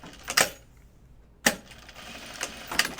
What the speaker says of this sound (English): my machine sounds like it's sewing funny, and I think it's the eyelet